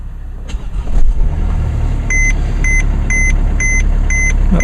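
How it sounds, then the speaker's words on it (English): Diesel car with push-button start cold-starting in sleet: a low engine rumble settles into a steady idle while a repeated dashboard chime beeps several times in a regular pattern. "Oh yeah, started right up."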